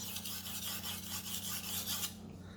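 A knife blade rasping back and forth across a sharpening stone in quick, regular strokes, close and steady, then stopping near the end; nothing else is heard.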